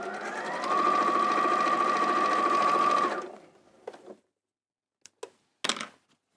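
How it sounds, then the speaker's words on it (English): Sewing machine stitching cotton quilt squares together, a steady fast mechanical whir for a few seconds that stops, then some light clicks and handling noises. "I've got to sew these 2 squares onto either side of 2 of them."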